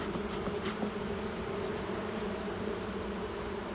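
A steady, dense buzz of honeybees at a hive during an inspection hums throughout, many bees droning together close by, with no voices.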